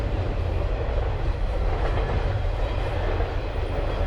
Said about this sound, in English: That's the second train in an hour.